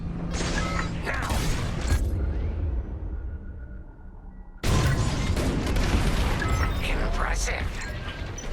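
Bombs explode in a space-combat run in Star Wars: Squadrons: after several seconds of cockpit rumble and clanking mechanisms, a sudden loud, sustained burst of booming blasts and crackling debris erupts and rolls on to the end, with voices over it.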